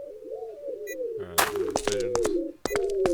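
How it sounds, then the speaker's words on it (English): Pigeons coo softly and repeatedly in a low, rolling murmur that carries through the whole stretch, with sharp clattering knocks and rustles breaking in midway. "Pigeons."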